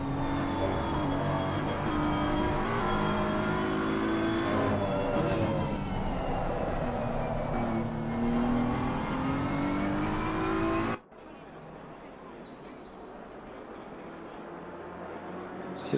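Race cars rev and whine around a track in Assetto Corsa Competizione. Loud, sustained engines rise and fall through gear changes for about eleven seconds, then cut abruptly to a quieter, distant engine hum, with a commentator talking.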